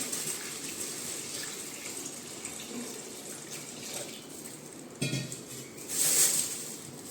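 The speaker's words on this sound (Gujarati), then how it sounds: "તો આમાં આપણે પાણી નાખી દઈશું" Water poured from a small vessel into containers in a home, split between two shallow dishes; a soft, steady trickle and splash at low volume, with a brief louder gush near the end.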